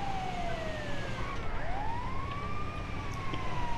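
An ambulance siren in the video game GTA V wails in long rising and falling sweeps, loud and steady throughout, with no talking over it.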